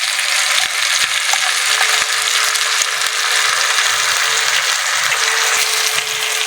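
Amla pickle with sugarcane jaggery frying in a pan, giving a continuous loud sizzle with repeated scrapes and knocks of a spoon stirring through it.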